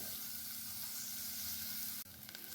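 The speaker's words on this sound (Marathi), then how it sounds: "आलं व्यवस्थित मिक्स करून घेऊया हे आपल्याला दोन ते तीन मिनटं छान असं परतून घ्यायचं आहे" Ginger and garlic being stir-fried in a pan give off a continuous soft sizzle and hiss, fairly faint, with a brief stirring scrape near the end.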